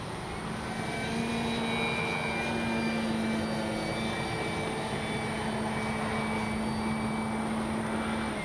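An FMS 1400mm Pitts V2 radio-controlled biplane drones steadily overhead, its motor holding one constant tone, under a continuous wash of wind noise that masks any clear approach or fade.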